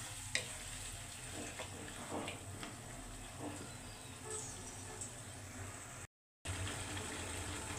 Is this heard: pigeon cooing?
no